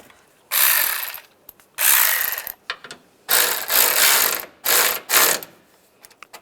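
A ratchet on a Toyota Corolla fog light mounting bolt clicks in several quick bursts, each a short loud run of rapid pawl clicks separated by pauses, with a few faint single ticks between.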